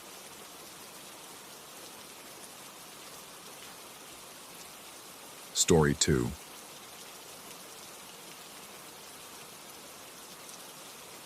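Steady, even rain falls through a thunderstorm night, a soft continuous hiss with no breaks. A voice briefly speaks a couple of words midway, then the rain carries on alone.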